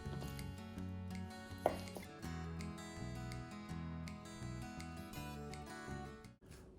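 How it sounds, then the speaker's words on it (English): A knife chops through pork butt on a board for homemade sausage, with quick repeated cuts running steadily under loud background music. "Now that we've got our pork butt all chopped up"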